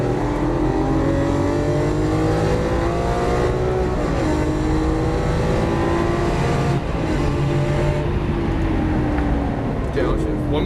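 A Lamborghini Aventador LP700-4 on a Las Vegas race track, its loud engine revving continuously through rising gear pulls with shifts around four and seven seconds, while a voice talks over the roar throughout.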